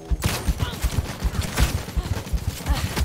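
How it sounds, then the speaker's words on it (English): Rapid gunfire in the online shooter The Cycle: Frontier during a PvP fight, a dense burst of repeated shots lasting a few seconds, loud and close with game noise around it. "Oh, shot a gun."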